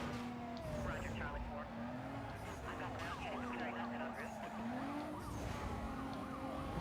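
Police sirens wail and sweep up and down during a cop chase in the Need For Speed Most Wanted racing game, layered over continuous engine roar and game noise.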